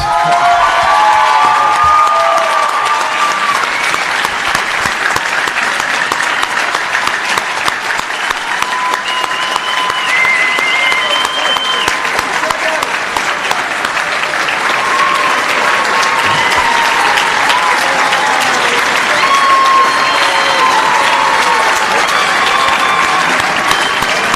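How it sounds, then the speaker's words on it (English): A large audience gives steady, dense applause for graduating osteopathic medical students at a white coat ceremony, loud and continuous throughout, with faint cheers mixed in. "Let's give them one more final round of applause."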